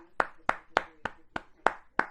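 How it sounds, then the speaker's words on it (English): One person claps slowly, seven sharp, evenly spaced hand claps, close and alone with no other sound. "Round of applause for Paul Feig."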